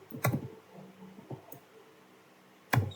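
A command typed on a computer keyboard, a few sharp, close clicks spread unevenly, with a loud strike at the start and another near the end, in a quiet room.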